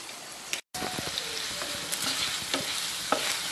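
Chicken browns in a hot pan, a dense steady sizzle with brief stirring scrapes and a momentary cut near the start, close and loud with no talking.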